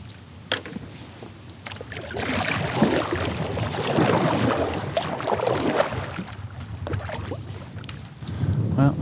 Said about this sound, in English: this wind is starting to get kind of stupid out here